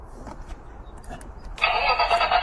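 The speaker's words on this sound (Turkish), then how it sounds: "Çalıştır arabayı bakalım." A car engine cranks and catches, quiet rustling first, then a loud steady running engine for the final second.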